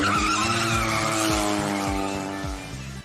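A Mini rally car skids hard, its engine roaring loud and close with rhythmic gear-change dips and squealing tires, and no voices.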